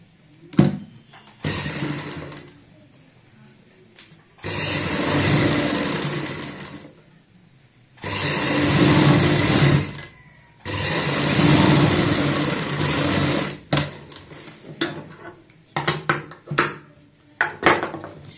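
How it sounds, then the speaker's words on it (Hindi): A sewing machine stitches piping onto a neck strip for a garment neckline, running in three long steady bursts of loud whirring that alternate with quiet pauses and a few short clicks and taps of handling. "जो हमारी पाइपिंग होती है इसी के साथ में यहाँ पे सिलाई लगाते हैं।"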